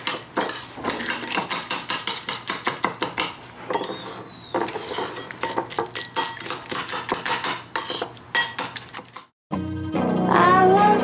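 A raw egg is stirred into a homemade hamster treat mixture in a bowl, with rapid, steady clinks and scrapes of a utensil against the dish, close and fairly loud, before a brief pause and a different louder noise at the end.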